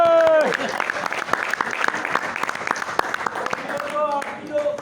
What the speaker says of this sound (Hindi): तो इसी के लिए तालियां।